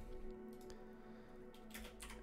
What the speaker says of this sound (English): So I would type in aileron